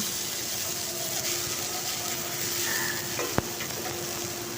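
Drumsticks and onions stirred and fried together in a pan, a dense, even sizzle close up with a low steady hum underneath and one sharp knock of the spatula near the end, no voices.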